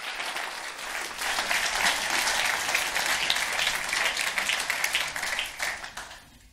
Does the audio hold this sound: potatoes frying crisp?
no